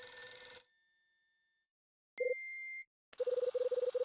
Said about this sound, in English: Damn, it's a bad time for the phone to ring.